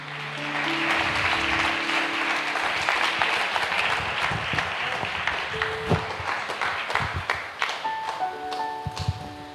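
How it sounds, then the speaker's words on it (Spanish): A church congregation applauds with sustained, dense clapping that fills the room, with faint musical tones and scattered voices underneath, steady and fairly loud throughout. "Denle una ofrenda de palmas a Jesús."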